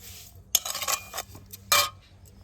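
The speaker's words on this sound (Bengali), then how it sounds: "ভালো করে এইভাবে একটু মিশিয়ে নেড়ে চেড়ে নেব" A spoon stirs sugar and orange peels in a bowl, making a few short bursts of gritty scraping and clinking separated by brief pauses, close and moderately loud.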